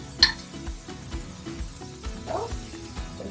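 Marinara sauce is stirred into a mixture of zoodles and meatballs in a pan, with soft, repeated scraping and light clinks of a utensil against the pan and a faint sizzle underneath.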